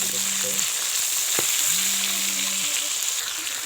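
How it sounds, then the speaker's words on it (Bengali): Tengra fish fry in a pan with a loud, close, continuous sizzle, while a faint tonal hum and a soft voice come through briefly underneath. "মাছগুলোকে ভালো করে ভেজে নিতে হবে"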